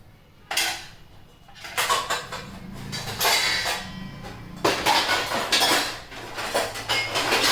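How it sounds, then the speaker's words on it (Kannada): Cooking pots and vessels clatter and clank as they are lifted and set down indoors, in several bursts of metallic knocking with little talk. "ಎಲ್ಲ ಪಾತ್ರೆ ಎತ್ತಿಡ್ಬೇಕು"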